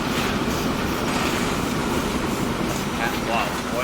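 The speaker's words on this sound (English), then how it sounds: "Whoa, oil train passing by on the other side." An oil train passes by on the other side in the simulation game Transport Fever 2, a loud, continuous rolling rumble with a faint squeal near the end, with voices talking over it.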